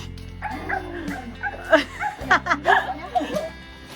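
A dog gives several quick yips and barks close by, mixed with people talking and a little laughter.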